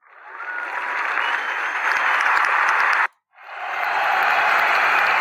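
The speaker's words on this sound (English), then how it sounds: "You want to put the sound of a stadium." A stadium crowd sound effect from iMovie, a loud, sustained roar of cheering and applause that cuts out briefly in the middle, then swells back in.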